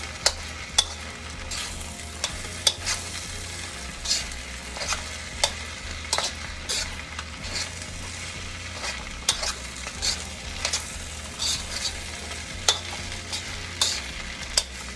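A spatula scrapes and knocks through chicken fried rice in a hot pan, irregular clacks and scrapes over a constant low sizzle, close and alone without speech.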